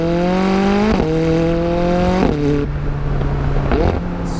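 A McLaren 600LT or 675LT turbocharged engine revs hard under acceleration, its note climbing and then dropping sharply at each of three quick gear changes, loud and close inside the car with no talk.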